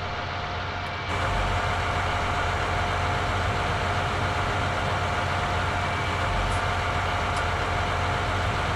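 A John Deere 7310R tractor in a farming simulator game idles while warming up, a steady low mechanical drone that rises slightly after the first second and holds evenly throughout.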